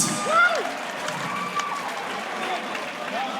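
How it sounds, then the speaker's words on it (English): Audience applause and crowd noise fill an arena after a five-round amateur bantamweight title fight at UKFC 18. The clapping is steady and moderately loud, with an announcer's voice over it. "a round of applause for these two athletes"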